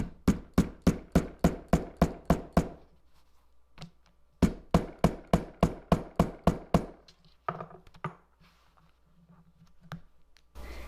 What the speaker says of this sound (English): once you're sure that that snap is resting on those prongs, then go ahead and hammer that in place.